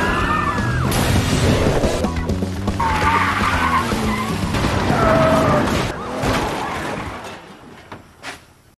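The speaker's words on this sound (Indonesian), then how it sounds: "mobil truk yang dikendarai oleh Kohe mengalami benturan cukup keras, sedangkan mobil polisi juga mengalami nasib yang sama" A movie car chase in which a truck and a police car skid and crash: loud tire screeches and sliding, engine roar, and a heavy impact. Squeals rise and fall, then the sound fades into rumbling debris noise.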